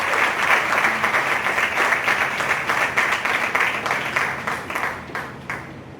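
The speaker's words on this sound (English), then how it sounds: "So I want to give them a round of applause for their work." An audience at an education equity conference claps in sustained, dense applause that stays loud throughout and then eases slightly toward the end.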